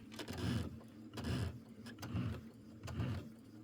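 A home sewing machine stitches quilt fabric in four steady bursts, each roughly half a second of close, motorized humming with short pauses between runs.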